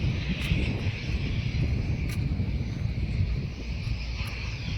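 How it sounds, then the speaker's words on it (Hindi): A drone camera flies overhead with a continuous whirring engine drone that holds steady at moderate loudness throughout, with no talking. "drone camera"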